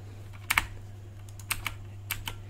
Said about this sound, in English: you can just click on it, press delete on your keyboard